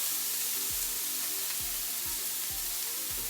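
Vegan burger patty frying in a pan, a constant close hiss of sizzling oil over a low recurring hum, with no voices.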